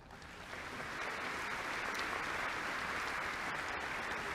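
An audience at a university engineering school graduation ceremony breaks into applause that swells over the first second, then holds as a dense, steady clapping roar from a large crowd.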